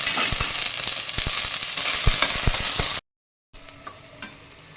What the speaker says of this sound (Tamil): அதுலேயே ஒரு பச்சை மிளகாயும் போட்டுக்கிறேன், கொஞ்சம் கருவேப்பிலும் போட்டுக்கிறேன்